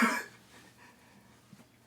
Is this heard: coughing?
yes